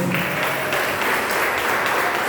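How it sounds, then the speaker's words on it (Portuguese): Church congregation applauding during a family worship service, a steady dense wash of clapping hands that fills the whole stretch at close, even loudness with no talk over it. "As palmas vão ao Senhor."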